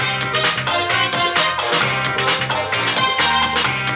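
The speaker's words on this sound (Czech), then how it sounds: "A teď, jak na plný výkon hraje JBL Flip 4." Loud full-volume music from a JBL Flip 4 portable waterproof Bluetooth speaker, a dense steady mix with a rhythmic low beat running throughout, close and continuous.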